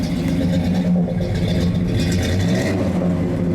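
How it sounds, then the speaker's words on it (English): A 1970 AMC Rebel V8 engine rumbles loudly up close, its exhaust note rising and falling with light revs over a deep, steady idle. "let me get a little exhaust note there"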